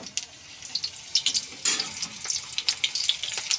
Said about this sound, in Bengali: এই পটল তেলে ছেড়ে দিচ্ছি।